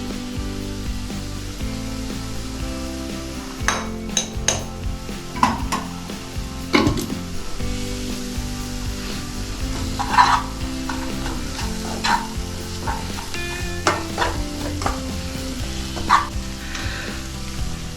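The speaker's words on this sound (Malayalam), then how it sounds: "അതുപോലെ ഒന്ന് ഇളക്കി സെറ്റാക്കി എടുക്കാം" A spoon stirs potato curry frying in a pan, steady sizzling broken by irregular scraping knocks against the pan, with a few faint barks in the distance.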